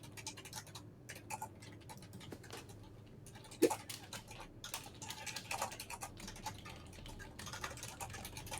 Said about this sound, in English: Rapid typing.